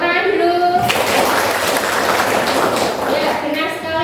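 A small group claps in a steady burst of roughly two and a half seconds during a teachers' academic supervision session, with a voice speaking before and after the applause.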